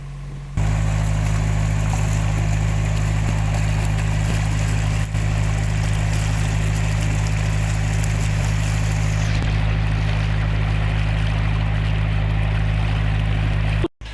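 A narrowboat engine rumbles steadily at close range on the River Thames as the boat pulls away from its mooring, a constant low drone with faint water noise, holding level for several seconds before cutting off abruptly.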